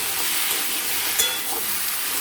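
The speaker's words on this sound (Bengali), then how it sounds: "এটা কিছুক্ষণ নাড়াচাড়া করব।" Vegetables for a homestyle mixed vegetable ghyat fry in a pan, giving a dense, loud, continuous sizzle and hiss with a faint stir scrape partway through, close up and without voices.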